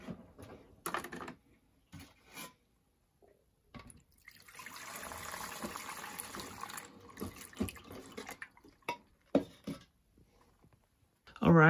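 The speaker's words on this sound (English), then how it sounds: "just to rinse it all out as much as I can" Jeans rinsed by hand in a small amount of water give a run of sloshing and swishing near the middle, set between scattered clicks and handling knocks. A person speaks intermittently.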